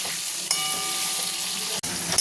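Bitter gourd pieces fry in an oily pan with a dense, loud, continuous sizzle, interrupted once by a brief stir before the crackle resumes close up.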